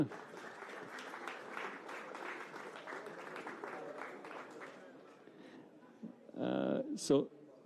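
Audience applause at the Open de France 2025 ceremony, a steady moderate patter of clapping from a crowd lasting several seconds before thinning out, followed by brief louder sounds near the end.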